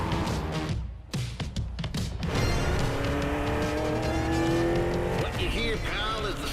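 NASCAR stock cars in the racing game The Crew Motorfest roar and rise in pitch as they close in, engine whines sweeping upward with a hint of tire noise, and a voice speaks over them.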